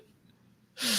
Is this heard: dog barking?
no